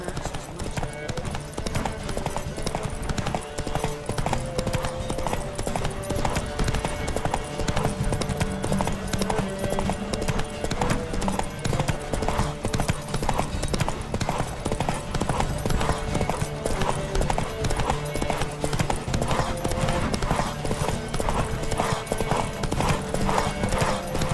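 A horse gallops in The Witcher 3, its hooves clip-clopping in a fast, steady rhythm throughout, loud and continuous over game music and occasional voices, with a whinny at times.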